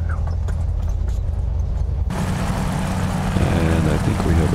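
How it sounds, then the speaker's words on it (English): Front engine of a twin-engine aircraft catching and starting: a low rumbling idle that abruptly swells into a dense, louder roar partway through, steady and close. "And I think we have a good start on the front engine."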